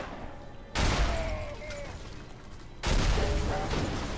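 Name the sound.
GX-10 gunfire in video game Afterfall Insanity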